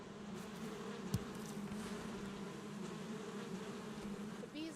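Bees buzz steadily around a small house's hives in the Valheim video game, a continuous close drone that holds at an even level throughout with no voices over it.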